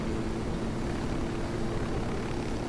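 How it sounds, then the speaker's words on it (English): A helicopter in the video game Ghost Recon drones steadily overhead, a dense continuous rotor and engine roar filling the whole stretch with no pauses. "We should definitely bail out of this helicopter."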